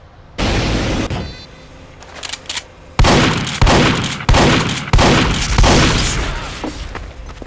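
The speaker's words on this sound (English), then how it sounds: "Oh wow, he put a sentry gun now." A sentry gun in Team Fortress 2 on PS3 fires a series of loud, sharp automatic bursts, one long burst followed by several rapid repeated volleys of gunfire.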